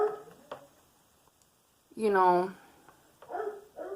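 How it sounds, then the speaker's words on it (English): A dog barks once, loud and close, in a home while someone talks before and after it. "excuse the dog, she's got to talk to us"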